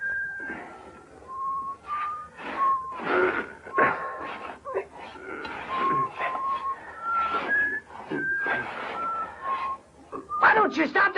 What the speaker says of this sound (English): Why don't you stop that damn whistling?